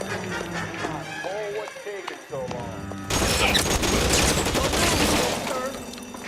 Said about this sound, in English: Coming in, guns are blazing.